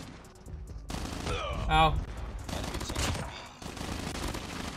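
Rosie MSMC submachine gun firing rapidly in Call of Duty Mobile, dense bursts of fast automatic shots in several runs, mixed with game effects and a player's brief exclamation.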